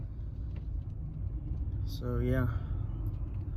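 A Saturn Vue SUV rumbles at low speed as it pulls away in the dark, a steady engine drone with someone speaking briefly over it.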